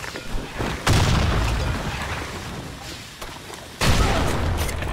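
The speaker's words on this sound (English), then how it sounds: "Grenade!" Grenade explosions in the shooter game Blackshot, two loud booming blasts a few seconds apart, each a sharp broadband burst followed by a fading rumble and scattered gunfire.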